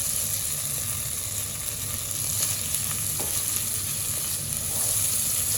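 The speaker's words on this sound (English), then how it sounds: "when bitter gourd and keema is well cooked and well fried" Bitter gourd and minced meat keema fry in a pan with a steady, close sizzle and crackle that runs the whole time, without talking.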